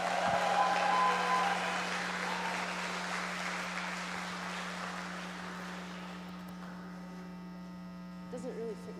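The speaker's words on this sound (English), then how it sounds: "So hoot and holler and clap and say thank you to Julian and Evelyn." Conference audience clapping in thanks, a dense burst of applause that is loudest at the start and gradually thins out, with a steady electrical hum underneath and a few voices near the end.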